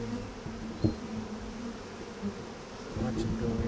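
A steady, low drone of many bees buzzing close by during a hive transfer, continuous throughout with slight swells.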